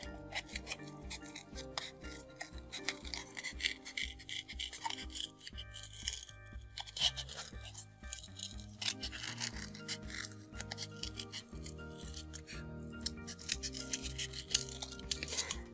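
Scissors cut a heart shape out of paper, a continuous close rasping and rubbing with small snips and crinkles running throughout, no talking.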